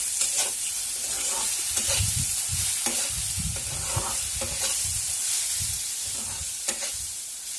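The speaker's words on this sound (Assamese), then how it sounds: "তাৰপিছত অলপ সময় ভালদৰে ভাজিলোঁ।" Tomato and egg fry with turmeric and salt in a pan, giving a steady loud sizzle broken by repeated scraping stirs.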